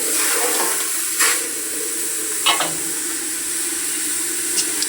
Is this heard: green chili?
yes